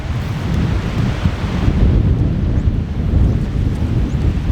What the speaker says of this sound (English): And it is really windy out here